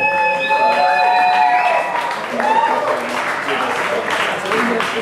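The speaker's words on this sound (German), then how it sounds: "Ein kräftiger Applaus für den jungen Mann." Applause fills the space as a crowd at a laptop music battle claps steadily, mixed with music-like tones and voices.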